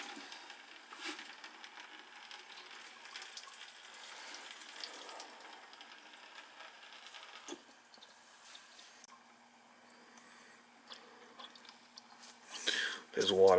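Water drains from a boiler with a replaced tankless coil through a hose, giving a steady, faint trickling and hissing wash with soft drips. A louder splash comes near the end.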